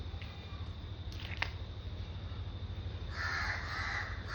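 A crow caws a few times nearby, short harsh calls standing out over quiet household background hum, with a longer cawing stretch near the end.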